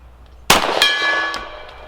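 A .45ACP Glock 41 fires and a steel gong 50 yards off is struck, giving a sudden crack, a second metallic hit just after, and a sustained ringing tone that decays over the following second.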